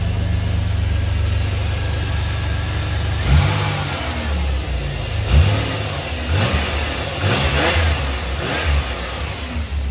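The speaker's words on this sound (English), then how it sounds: "Alternator sure is making a lot of racket." Engine of a 1989 Chevy Celebrity runs steadily with a rattly, noisy alternator, and the engine revs up in several short bursts close by, with no talking.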